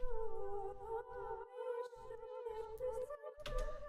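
A synth line run through a filter delay effect, sustained tones whose echoes bounce back and forth in a wide, roomy space, with rhythmic gaps in the low end as the pattern pulses.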